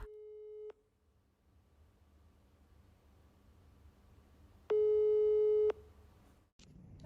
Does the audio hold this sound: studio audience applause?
no